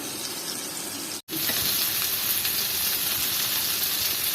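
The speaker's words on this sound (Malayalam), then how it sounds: "ഇനി ഇതൊന്ന് ഫ്രൈ ആവണം." Chicken drumsticks frying in a pan, a loud, steady sizzle that runs continuously, broken only by a very short silent gap early on.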